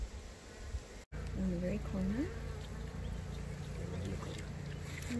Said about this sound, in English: All the nurse bees running around to take care of the baby bees in the nursery.